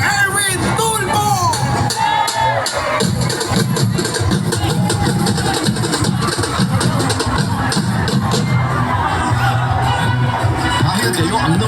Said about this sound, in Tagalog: Isang malakas na sigawan para kay Erwin Tulfo!